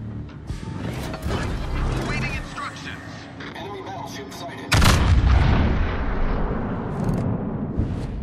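Yamato battleship main guns firing in World of Warships: repeated heavy booming salvos, with a sudden loud broadside roar midway, layered over ongoing battle noise and game voice callouts.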